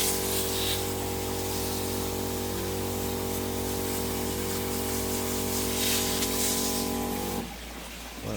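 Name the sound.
watering plants with rainwater spray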